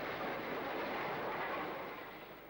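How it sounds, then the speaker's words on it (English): The North Briton passenger train rolls into York station with a steady, broad rumble and hiss of wheels on track, fairly distant and holding level before easing slightly at the end. "There's the North Briton coming in now."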